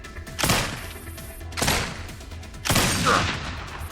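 Gunfire as the M4 opens fire, three separate heavy blasts spaced about a second apart, each a sharp loud burst trailing into a brief rumble.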